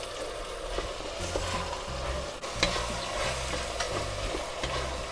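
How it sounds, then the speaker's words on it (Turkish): A spoon stirs carrots and peas in a pot with repeated scraping strokes over a steady background sizzle. "Aynı anda havuçları da ilave ediyoruz. Ve bezelyeleri de ve karıştırıyoruz."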